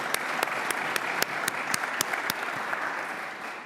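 Applause for a board of directors at an annual general meeting of an innovation centre, a sustained crowd clapping with a few sharp individual claps standing out, gradually thinning toward the end.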